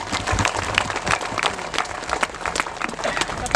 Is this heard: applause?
yes